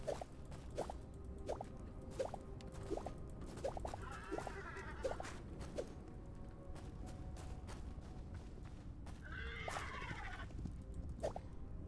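Faint hollow clopping and ghostly whinnies from a skeleton horse in the game Hytale, with regular knocking footfalls and two short raspy calls over a quiet ambient background.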